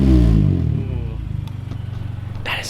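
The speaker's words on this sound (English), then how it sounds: "let's go ahead and get a startup and then some driving." A Mazda Miata ND engine with an ISR circuit spec exhaust cranks and roars to life, then settles into a throbbing, pulsing idle with a deep burbling exhaust, a brief hiss near the end.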